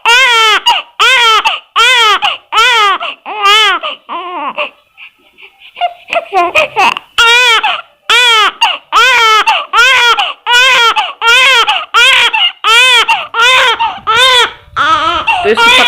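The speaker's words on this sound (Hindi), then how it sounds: "वो देखो कैसे रो रही है" Baby girl crying loudly and close in rhythmic wails with short gasps between them, pausing briefly midway amid soft rustling, then resuming in a steady run of sobbing cries.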